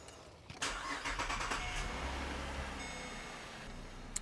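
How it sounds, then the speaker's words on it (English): A Holden VE Commodore engine cranks and catches, then settles into a steady idle; the sound is close and fairly loud and carries on alone without talk. "Let's start the engine."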